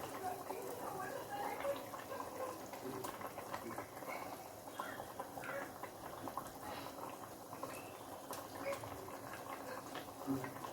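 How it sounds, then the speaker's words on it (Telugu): Fish curry gravy (pulusu) bubbling in a pot, a soft continuous patter of small pops and burbles at moderate distance, with faint kitchen background throughout. "ఇంకొంచెం మరగాలి పులుసు మరిగింది"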